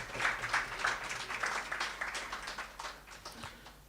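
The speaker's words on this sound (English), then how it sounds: "Can you give me a round of applause," Crowd at a corporate track and field meet giving a round of applause, scattered clapping from a modest group, moderately distant and fading toward the end.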